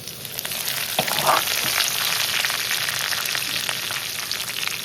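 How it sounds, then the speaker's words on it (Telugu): Curry leaves sizzle and crackle in hot oil for tomato pachadi, a steady loud frying hiss with scattered pops and a little stirring, close and continuous throughout. "ఇది కరివేపాకు వేస్తున్నాం"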